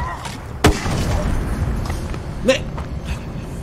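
Grenade explosion in the video game Far Cry 2: a sharp, loud blast near the start followed by a rumbling decay, with a second softer burst later, over steady game background noise and a voice.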